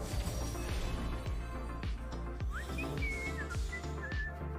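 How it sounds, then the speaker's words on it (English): Character whistling menacingly in Legends of Runeterra, a short wavering whistled tune heard faintly over busy game music with repeated percussive hits. "Look how menacingly he's just whistling"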